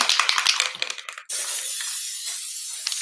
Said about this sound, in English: so I'm going to spray